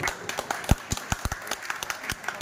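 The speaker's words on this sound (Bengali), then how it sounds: "হাততালি" Applause from an audience at a Maxglow seminar in India, a quick run of close, sharp claps of uneven rhythm that sounds like only a few people clapping rather than a full crowd.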